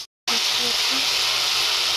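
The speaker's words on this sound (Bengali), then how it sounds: "মশলাটা ভালো করে একটু কষিয়ে নেব" Spice paste of ginger, pepper, cumin and dried chilli hits hot oil in a pan, bursting into a loud, continuous hissing sizzle after a brief silence.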